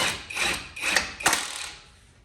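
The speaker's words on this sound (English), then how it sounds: "For this lower ball joint, I'm going to start by running it most of the way up with an impact." Impact wrench spinning a lower ball joint nut up on a 2014-2018 Jeep Cherokee front suspension, three short close rattling bursts, each fading out, with no talk.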